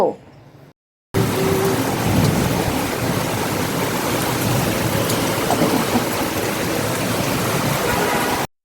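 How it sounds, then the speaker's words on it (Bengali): Heavy rain pours in a dense, steady roar with low rumbling undertones of thunder, loud and close after a brief quiet start. "এত গরমের ভিতরে এই বৃষ্টিটা হওয়া যে কি যে দরকার ছিল"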